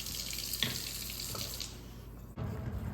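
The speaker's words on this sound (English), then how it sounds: "Another use for water is washing the dishes." Tap water runs steadily into a sink while dishes are washed, a close, continuous splashing stream with a brief clatter partway through and a short pause before the flow resumes.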